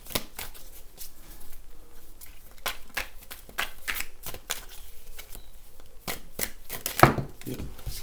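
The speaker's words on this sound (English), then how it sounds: "Just a couple of more shuffles." Tarot cards are shuffled in a quick series of crisp riffles and snaps, close and fairly quiet, with a sharper handling clack near the end.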